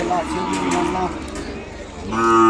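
A young Ongole calf moos at a cattle market in a few short, close calls, one early and one rising at the end, with market voices in the background.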